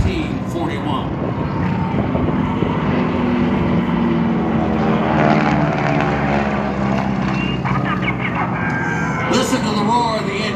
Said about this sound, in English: Listen to the roar of the engines